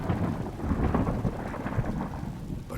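A thunderstorm arrives with rain after a long drought, bringing deep rolling thunder and dense, steady rainfall that stay loud and continuous throughout, with no voices.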